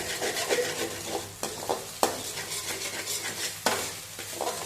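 Egg is scrambled and stirred in a pan for chicken rice: repeated brisk scraping strokes of a spatula over a soft continuous sizzle, close up, with a few sharper knocks against the pan.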